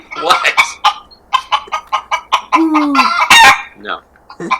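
A played chicken sound effect: a rapid series of loud rooster crows and clucks, repeating in quick bursts, with a voice briefly talking alongside.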